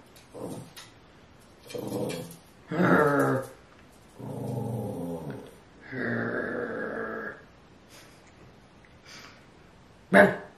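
A dog growls in several low rumbling bursts with pauses between them, moderately loud and close, with no talking over it.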